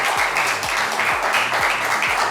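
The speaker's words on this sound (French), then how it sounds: "Est-ce qu'on peut applaudir Shekinah bien fort," A studio audience claps loudly and steadily for a guest on a French-language talk show, a dense, continuous burst of applause heard up close.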